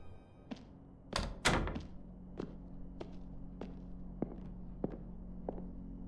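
A back door opens in a video game with a couple of heavy wooden thuds, followed by a steady series of soft, evenly spaced knocks over a low background hum. No one speaks.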